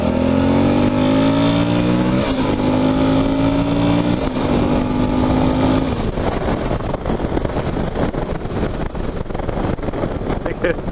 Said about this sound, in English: This bike can do it. It pulls pretty hard. It's a V-twin.